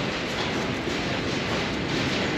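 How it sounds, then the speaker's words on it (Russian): A metro train rumbles past close by, a dense continuous roar of wheels and carriages with faint clatter. "Метро у нас идет."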